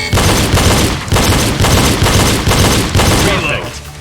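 Pistol double-taps fired at targets during a timed shooting drill: loud, close, sharp reports in quick pairs that repeat about every half second to a second, with brief echoing tails.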